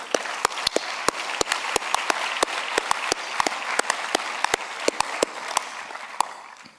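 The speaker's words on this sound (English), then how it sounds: "I think we owe them a round of applause" An audience applauds the Hanspal family at the ISPO World Congress 2017 closing ceremony, a dense, steady wash of many hands with individual sharp claps standing out, sustained for several seconds before starting to thin at the end.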